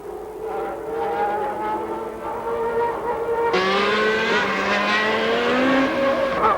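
Formula One race cars scream past at the Brazilian Grand Prix, engines held at a steady high-pitched whine with gear-change tones, growing louder and denser as more cars join midway, no talking.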